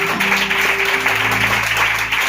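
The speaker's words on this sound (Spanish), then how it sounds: "¿Cuántos aplauden al Señor?" A church congregation applauds steadily, the clapping blending with a sustained tonal backdrop throughout.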